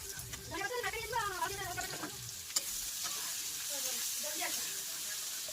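Onions frying in oil in a home kitchen, a soft steady sizzle with stirring scrapes, under intermittent speech.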